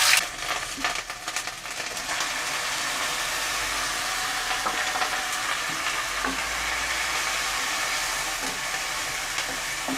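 Steady, loud sizzling of ginger-garlic paste frying in hot oil, with occasional stirring scrapes, continuous throughout and close by.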